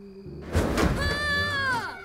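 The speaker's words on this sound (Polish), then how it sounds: "Drzwi zatrzasnęły się za nim." A door in a cartoon castle slams shut with a dull, heavy thud, followed by a tonal musical swell.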